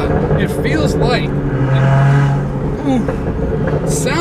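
A 600 hp BMW Z4 with an N54 engine and a GTHaus turbo-back exhaust accelerates, its loud engine note rising and surging over a few seconds while voices talk over it.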